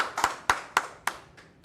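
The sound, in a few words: audience applause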